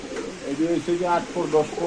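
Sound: Giribaz pigeons cooing

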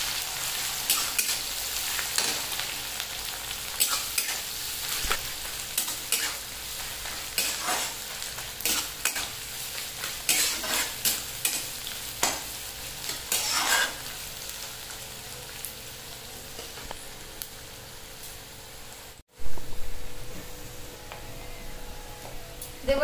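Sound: chopped onions frying in a pan

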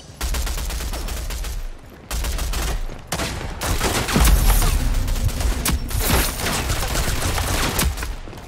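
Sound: gunfire from the video game Rogue Company

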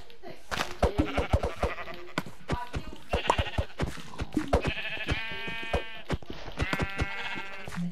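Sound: sheep bleating in the video game Minecraft

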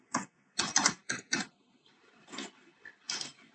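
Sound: typing text on a computer keyboard

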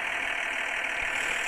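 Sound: old tractor engine running

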